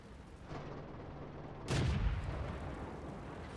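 A single heavy tank cannon shot from a Matilda in a tank game booms out loudly midway, following a quieter stretch of rumbling engine and battlefield noise.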